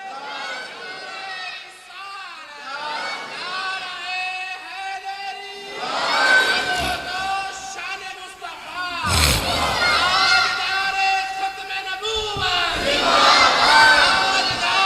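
A large crowd at a religious gathering answers a preacher's slogan with loud, rhythmic shouted chants of 'Zinda Abad', voices massing in repeated surging waves that swell and fall several times.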